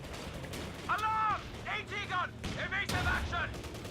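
Anti-tank gun fire in Company of Heroes 2, a few sharp booming shots with short battle noise between them, playing under a commentator's talk during a 2v2 match.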